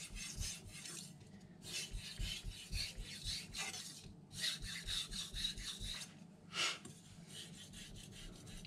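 A kitchen knife is stroked back and forth across a Naniwa Aotoshi green whetstone with slurry, giving close, steady rasping strokes in bursts with brief pauses between them.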